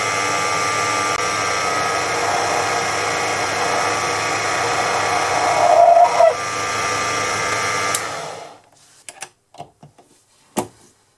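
A Proxxon PD 250/e lathe turns 5mm stock down toward 4.1mm with a steady motor whine and cutting noise. It stops abruptly near the end, followed by a few scattered clicks and taps.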